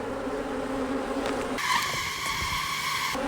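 Honeybees hum steadily around an opened hive as frames are handled during a split follow-up. The close, droning buzz shifts to a higher, stronger pitch midway as bees fly near, then drops back.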